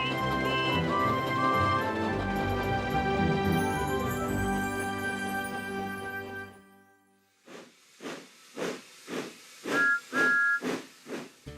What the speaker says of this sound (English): Who's that puffing down the track? It's Thomas!